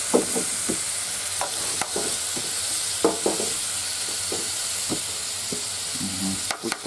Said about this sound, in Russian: Пусть поджарится.